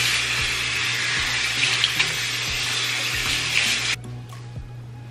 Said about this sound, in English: I'm gonna wash it with some conditioner